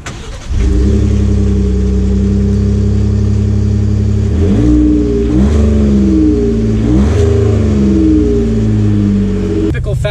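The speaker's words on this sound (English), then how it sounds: "let's take the 2019 XLT out to see how it drives." A 2019 Ford F-150 XLT Sport pickup starts up and pulls away, its engine droning loud and close with a few rising surges as it shifts and accelerates, then cutting off near the end.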